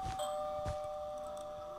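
A doorbell-style ding chimes once inside the Minecraft video game, a clear sustained tone that rings on and fades slowly over a quiet background with a couple of soft thumps.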